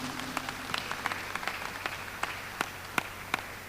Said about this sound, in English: Please appreciate her with a round of applause.